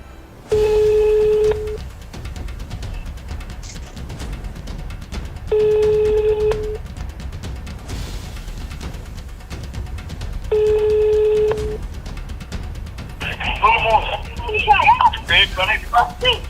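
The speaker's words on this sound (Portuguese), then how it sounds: "Eu estou tentando ligar agora novamente para o Maurício" Phone ringback tones on an outgoing call repeat three times, each a steady electronic ring lasting about a second separated by long pauses, followed by a brief burst of line noise and crackle as the call connects.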